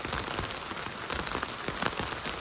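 Steady rain falls on a Konkan village, a dense, even patter of drops hitting nearby surfaces that continues throughout without talking.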